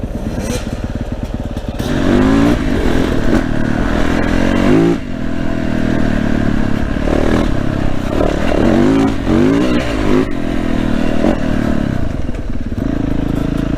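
A KTM 300 EXC two-stroke enduro motorcycle ridden off-road, its engine loud and close, revving and pulling hard continuously with rising and falling pitch, plus clatter and scraping from the terrain.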